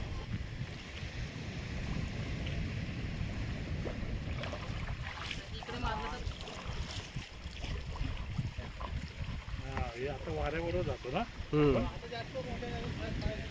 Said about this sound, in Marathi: जी बोट आहे ना त्याला कायाक बोलतात आणि जे वलवत आहे ना त्याला पॅडल बोलतात